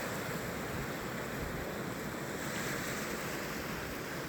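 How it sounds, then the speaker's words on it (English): Ocean surf on a windy winter beach, a continuous broad wash of waves with wind buffeting the microphone, loud and steady throughout with no voices. "So get more waves here"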